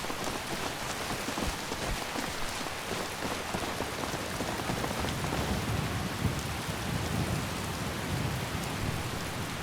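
Heavy rain pours steadily in Skyrim, a dense hiss of drops striking surfaces with low thunder rolling underneath, continuous and enveloping with no voices.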